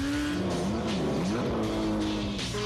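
A race car roars along a road closed to the public, its engine loud and steady throughout as revs rise and fall with gear changes, close by and with no voices.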